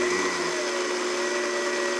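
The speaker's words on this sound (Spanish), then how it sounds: "Tengo una licuadora de alta velocidad, así que esto nos dará la textura perfecta." A high-speed blender grinds seeds into a flour-like texture, giving a loud, steady, high-pitched motor whine that holds continuously without pause.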